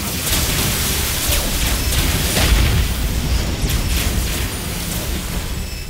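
Weapons fire and explosions from a space battle in the strategy game Galactic Civilizations 3 keep up a dense, loud stream of booms and bursts, one heavier blast near the middle, with no speech over it.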